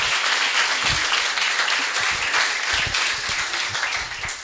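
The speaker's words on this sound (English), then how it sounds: "can we give Lucinda another round of applause?" A crowd at a Cape Flats bench unveiling honouring Harry Belafonte applauds Lucinda, a loud, dense burst of clapping that holds steady and then begins to taper off.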